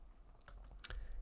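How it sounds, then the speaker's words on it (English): Quick light keystrokes on a computer keyboard while editing a Google Docs document, a few soft close taps within a quiet second. "So now if I keep typing"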